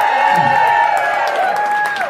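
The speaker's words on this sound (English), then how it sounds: "y'all better keep that applause going right now" A concert audience cheers and whoops after a singing performance, loud and close, with a high sustained tone running through the crowd noise.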